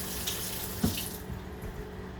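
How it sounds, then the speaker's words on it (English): Hands are rinsed under a running kitchen tap while making burgers, a close hissing stream of water that flows steadily and then cuts off partway through. "Rinsing hands."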